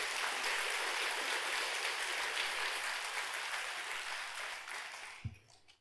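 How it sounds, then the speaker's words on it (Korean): An audience at a Buddhist dharma service claps in a dense, even burst that fades and stops near the end, leaving a brief soft thump and near silence. "신기하면 박수 한번 쳐봅시다."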